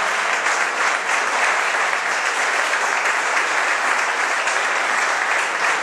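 An audience at a town festival proclamation applauds a journalist with sustained, dense clapping, loud and even throughout with no voices on top.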